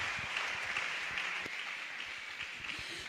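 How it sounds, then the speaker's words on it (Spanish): A church congregation applauds in praise: many hands clapping in a steady, somewhat distant patter with a hollow room sound, moderately loud and continuous. "¿Por qué no le damos un fuerte aplauso al Señor Jesucristo?"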